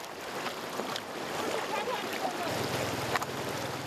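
Someone wades through an icy, fast-flowing mountain stream on a high plateau in Shangri-La, Yunnan. The water rushes and splashes steadily around their legs, with a few sharper sloshes from footsteps. No one speaks.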